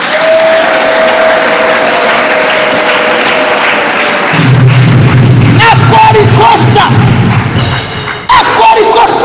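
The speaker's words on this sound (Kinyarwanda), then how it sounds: "Imana tuyikomera amashyi." A church congregation applauds loudly, a dense, continuous wash of clapping that carries on with low thumps and scattered louder claps toward the end.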